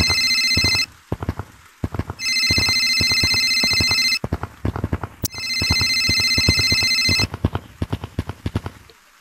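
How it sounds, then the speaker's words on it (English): Electronic phone ringtone in Gorilla Tag, the video game, sounding in two long bursts at close range, separated by stretches of dense, rapid clattering footsteps or thumps. "I hear the phone ringing."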